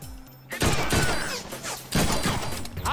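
Gunfire in the Deadpool video game crackles in two loud clusters of rapid shots and impacts, close and dense, with a brief quieter stretch between them.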